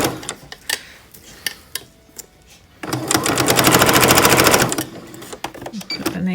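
A home sewing machine runs in a steady rapid burst of needle clatter for about two seconds, framed by sharp clicks and handling taps, with someone talking nearby.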